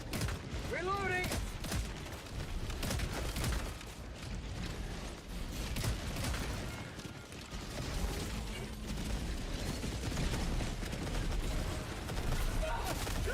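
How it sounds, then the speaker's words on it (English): Video game combat with an orbital barrage and gunfire: dense, continuous rumbling blasts and rattling shots fill the whole stretch at steady high loudness, with mechanical clanks and a voice mixed in. "Requesting orbital. Firing orbital barrage."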